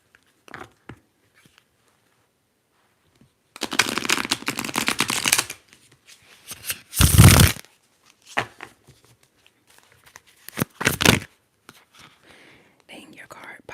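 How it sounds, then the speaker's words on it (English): Soft riffling bursts of tarot cards being shuffled, a longer run followed by a couple of short quick flutters, close and fairly quiet. "I'm gonna do one shuffle."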